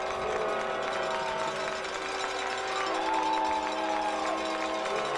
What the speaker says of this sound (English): Crowd getting fired up on the Genoa sideline, trying to motivate their defense for a big stop here.